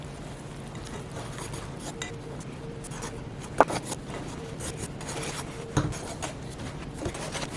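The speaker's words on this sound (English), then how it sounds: "I'm using a dough whisk" A dough whisk works through shaggy sourdough in a bowl, producing soft continuous rubbing and scraping with a couple of sharper knocks against the side, close and low in level without talk.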